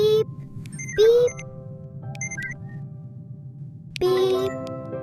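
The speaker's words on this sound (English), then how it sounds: "Beep, beep," Several electronic beeps sound in short bursts, separated by pauses, over a quiet background hum, with faint voices in between.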